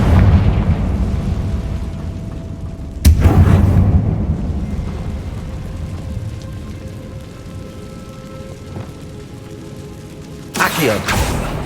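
Two heavy magical blasts burst in Hogwarts Legacy as the Bombarda and Confringo spells are cast, one sharp boom early and another near the end, with quieter game ambience between and a voice speaking.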